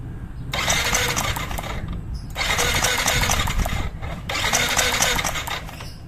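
A Yamaha NMAX scooter that stalled after riding through floodwater, its electric starter cranking up close in three long whirring bursts separated by short pauses.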